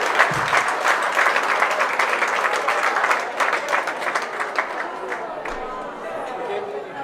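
A room of wedding guests claps steadily, the applause dense at first then thinning and fading into chatter toward the end.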